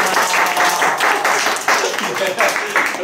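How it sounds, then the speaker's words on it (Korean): A classroom audience claps together in a sustained round of applause during a teaching festival, rhythmic and fairly close, with some voices mixed in. "수업 나누 박수 한번 하죠."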